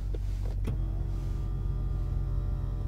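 Power window motor in a 1998 Lexus LX470 whirring steadily over a low idle rumble inside the vehicle, preceded by a few brief clicks and knocks.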